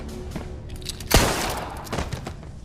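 A single sharp gunshot cracks out in an action movie scene, loud and close, with a booming tail and rumbling background score around it.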